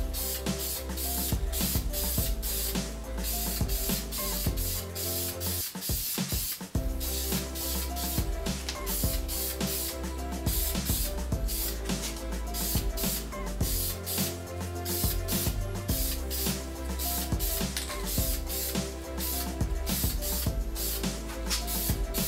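An aerosol spray can hisses in repeated bursts as a second coat of paint goes onto alloy wheels, close up with only brief breaks between sprays.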